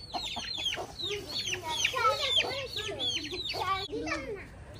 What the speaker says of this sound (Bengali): মুরগ গুলা গড়ে যাচ্ছে,